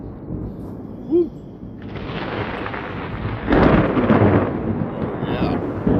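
Thunder from an approaching storm in Alabama rolls in as a loud, deep rumble that swells and sustains, with a heavier crack-like surge midway, and a brief voice sound early on.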